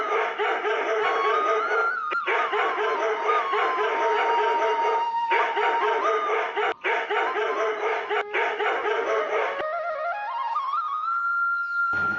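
A cartoon dog howls in a forest scene, with long wavering cries that rise and fall, loud and close, repeated in several drawn-out bursts with short breaks between them and no speech.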